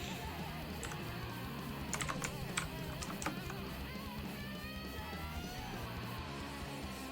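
Computer keyboard typing during a livestream: scattered light key clicks, bunched mostly in the middle, partly buried under a steady, dense background wash, with no speech.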